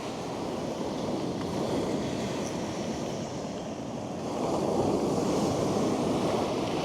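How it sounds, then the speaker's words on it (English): Large ocean swells break and dump at the water's edge on the beach at Slapton Sands, a continuous roaring surf with wind buffeting the microphone, swelling louder toward the end, no voices. "there is some big swells coming in"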